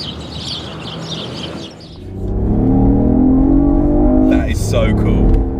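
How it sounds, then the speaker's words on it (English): A BMW i8 skids through a village with traction control off. It starts quiet, then the engine note surges and climbs loudly for several seconds, with a sharp scrabbling burst near the end. "Skidding in the village."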